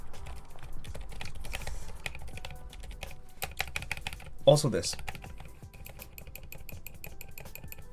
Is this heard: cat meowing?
no